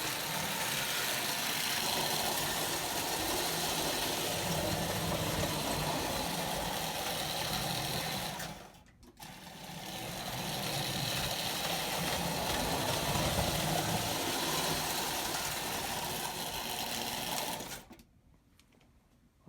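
A Marx-motored tin litho floor toy train with a reverse unit runs with a steady, close mechanical whir and buzz, cutting out briefly midway before restarting, then stopping near the end.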